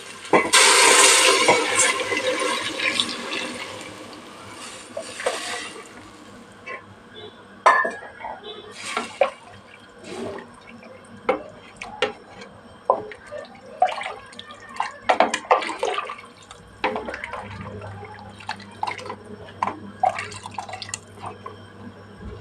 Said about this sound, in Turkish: Şimdi burada kaynattığım suyu koyacağım üzerine.